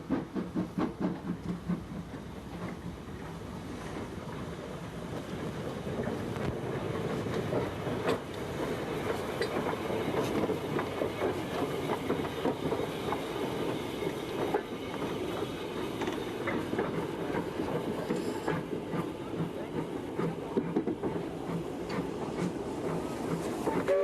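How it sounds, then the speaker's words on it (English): A steam train on the East Lancs Railway heading to Rawtenstall, hauled by the small tank engine Buckley No. 1, rumbles steadily nearby with continuous wheel clatter and rolling noise. "The first train to Rawtenstall was a members' special, headed by the little Buckley No. 1"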